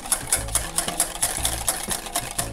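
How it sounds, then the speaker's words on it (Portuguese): Homemade mayonnaise base seasoned with salt and white pepper is stirred briskly in a bowl, with rapid rhythmic clicking and scraping strokes of the utensil, close and steady, with no talking. "Nessa hora eu já posso dar a primeira misturada"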